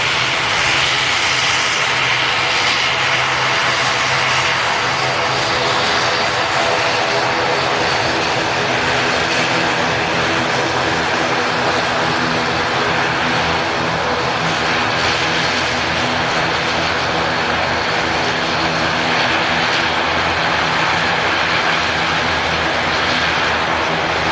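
Aircraft landing at Manchester Airport on arrival from Jersey, a loud, steady engine roar with broadband rush that holds unbroken for the whole stretch, with no voices over it.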